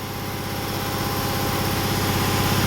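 A power tool strips metal from the frame of a 2006 Ford F-150 King Ranch truck, producing a steady, loud, close whirring drone that runs on its own without pause.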